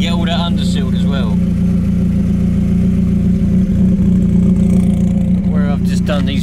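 A car's exhaust rumbles in a steady, loud, low drone that continues throughout, with no clear revving swells, while someone talks over it close by.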